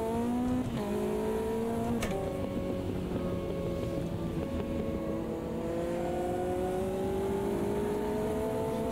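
Caterham 620R engine in the video game Automobilista 2 at Brands Hatch, a loud, steady, buzzing drone rising in pitch through the gears with brief dips at shifts, heard alone and close.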